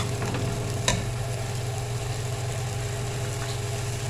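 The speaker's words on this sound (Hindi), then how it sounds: "मैंने पालक को अच्छे से भून लिया है चिकन के साथ।" Spinach and chicken frying in a pan while being stirred, a steady low sizzle with one brief scrape of the spoon, close and continuous, no talking.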